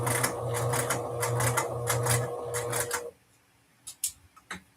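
A sewing machine runs in quick bursts closing a seam on a custom Anna dress, a close buzzing whir that stops after about three seconds, followed by a few soft clicks and handling sounds.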